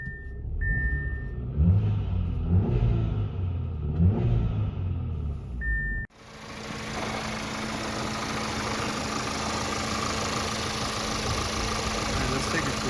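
Audi A6 C7.5 fitted with a cold air intake starts up and runs, a steady close engine drone with a broad intake hiss that holds evenly after a brief talk-filled opening and a short beep.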